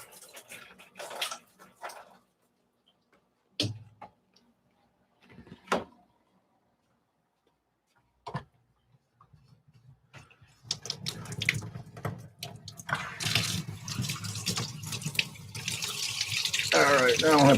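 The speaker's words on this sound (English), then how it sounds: "let's get the water flow reversed because that tank is pretty damn getting close to empty" Water pours steadily and loudly into a goldfish tank, building from scattered knocks and splashes into a continuous close rushing flow in the last several seconds.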